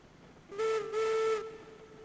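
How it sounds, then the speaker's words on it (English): Steam locomotive whistle in the railroad game Railroads Online sounds two sustained deep blasts, a short one then a longer one, clear and alone over quiet background. "Kind of a nice bass note to the whistle there."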